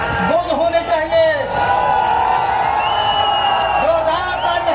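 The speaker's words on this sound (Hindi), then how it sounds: "जोरदार ताली बजाकर स्वागत करें। नेता का स्वागत हो रहा है।" A crowd greets a political leader with applause and cheers, heard under a loud amplified announcer who keeps talking over the noise.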